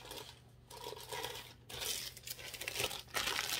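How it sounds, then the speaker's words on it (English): A roll of transfer vinyl being slid into a plastic bag, crinkling and rustling steadily and up close, with short pauses as the plastic is handled. "Roll my transfer vinyl back up, put it back in its plastic bag"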